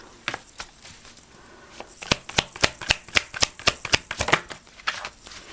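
Tarot cards being shuffled by hand in a rapid series of crisp, snapping riffles that grow louder and more regular midway, then taper off, close to the microphone with no talking.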